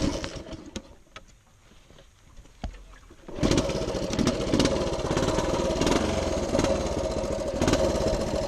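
A 1976 Honda TL250 trials motorcycle is kicked over a few times, then catches and settles into a loud, steady close-up idle that runs on alone.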